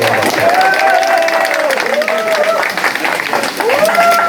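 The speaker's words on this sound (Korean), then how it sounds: "큰 박수로 맞이해주시오" Members at a forum gathering applaud in a continuous crowd clap, while someone talks loudly over it almost the entire time.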